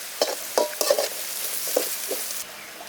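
Small shallots sautéing in a pan for Tamil fish curry, with a soft sizzle and several distinct scrapes of a spoon stirring against the pan, close and alone.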